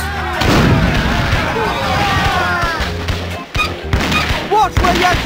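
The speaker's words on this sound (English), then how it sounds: "Watch where you're shooting!" Gunfire in the adventure game Monkey Island 3: The Curse of Monkey Island, heavy booming shots rolling out in succession under game music, with character voices talking over the blasts.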